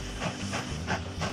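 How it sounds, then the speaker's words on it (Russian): A steam train in the video game Mashinky puffs out rhythmic bursts of loud hissing steam, about four chuffs in quick, even succession. "Шикарный поезд."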